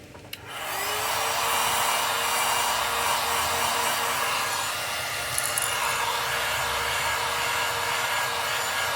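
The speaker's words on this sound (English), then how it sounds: "Let's heat set this real quick." Heat gun switching on and blowing with a steady, loud whooshing roar while heat-setting paint on a custom-painted fishing popper, running continuously close up with no voices.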